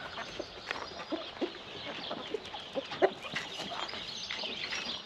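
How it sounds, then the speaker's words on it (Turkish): Chickens and roosters cluck and murmur nearby in short, irregular bursts in a hobby coop in Taşköprü, Kastamonu, a busy flock of fowl with no talking. "Bu horoz, öbürkü de erkek horoz, öbürkü dişi arkadaşlar."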